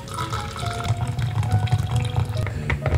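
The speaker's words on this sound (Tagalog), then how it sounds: "After that, lalagay mo na yung mainit na tubig." Hot water is poured into a bottle during a facial treatment, a continuous splashing, gurgling trickle that stays fairly loud and close throughout.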